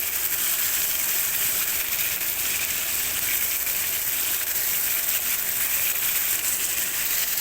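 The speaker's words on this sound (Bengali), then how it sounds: "আস্তে আস্তে করে কাবাবগুলো ভেজে নিচ্ছি" Chicken hariyali kababs sizzle slowly in a pan over a medium flame, a steady, even hiss and crackle of frying that holds at a constant level throughout with no talking.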